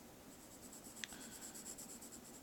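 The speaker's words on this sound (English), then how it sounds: "We're going to color the whole eye in." Crayola light blue colored pencil coloring on paper: steady, soft rhythmic scratching strokes, close and quiet, with one small click partway through.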